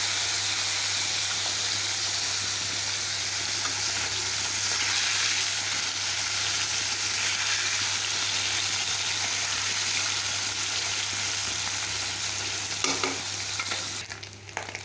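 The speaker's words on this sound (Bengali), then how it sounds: "মাছটাকে আগে একটু ভেজে নিই।" Small fish frying in hot oil in a pan, giving a steady, close, continuous sizzle and hiss that holds for most of the stretch, with a few clinks near the end and no talking.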